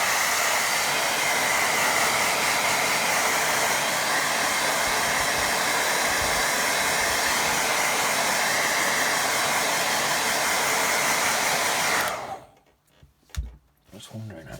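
A hair dryer blows steadily and loudly over a watercolour painting for about twelve seconds, a dense continuous whoosh, then cuts off abruptly, leaving near silence with a few faint knocks.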